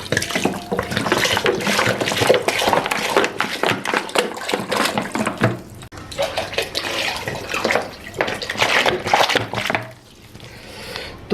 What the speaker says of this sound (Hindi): तो ये तकरीबन 4 लीटर हमने इसमें पानी डाल लिया है।